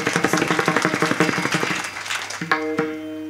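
A kirtan audience in Bori claps in a brisk rhythmic burst that tapers off after about two seconds, followed by sustained harmonium-like tones.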